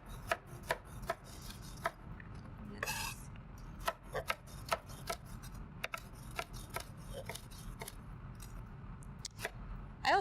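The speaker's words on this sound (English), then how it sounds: "I'm gonna cut these up kind of small just to make sure that they cook fast." Pears are chopped into small pieces with a knife on a board, a close series of quick, uneven cutting taps and slicing scrapes running throughout, with no voice.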